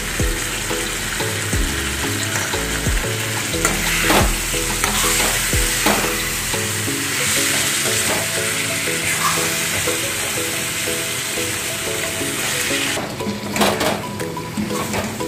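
A home-style chicken curry frying in a pot gives a strong, steady sizzle while a spoon stirs and scrapes in repeated strokes, close and loud, with clinks of utensils and no talking.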